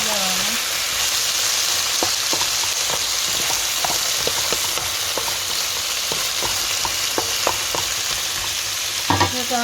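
Crab fries in a hot pan while it is stirred. A loud, continuous close sizzle runs throughout, punctuated by scattered clicks and scrapes from the spoon.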